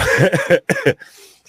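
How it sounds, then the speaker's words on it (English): A dry cough from a seated person, a few close harsh bursts in quick succession, followed by a faint throat noise and quiet room tone. "I have a bit of dry cough."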